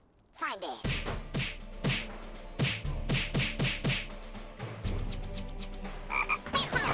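Frog croaks sound in the rhythm game Headbangers: Rhythm Royale, a rapid run of loud, evenly spaced croaks followed by a faster cluster, with voices and game sounds mixed in.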